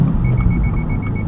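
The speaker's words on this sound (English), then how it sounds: "Forward collision warning is a little bit overly sensitive." A Subaru WRX TR's forward collision warning sounds a rapid series of short, high electronic beeps, evenly spaced, over a low cabin and engine rumble.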